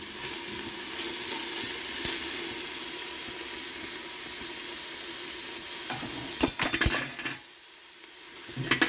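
Soup vegetables with celery sizzle in a pot while being stirred, a steady frying hiss with clattering spoon scrapes near the end, then a softer, quieter sizzle.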